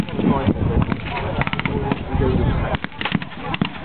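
Gunfire crackles at a WWII battle reenactment at a history festival, with a commentator talking over rapid volleys of sharp distant shots that come in clusters throughout.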